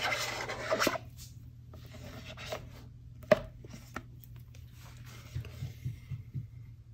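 Silicone being scraped over a mold piece for armorer's tongs: soft, close rasping strokes and scattered small clicks and taps, quiet and irregular, over a steady low hum.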